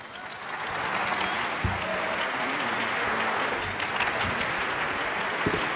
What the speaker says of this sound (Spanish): A ver, que se escuche el aplauso.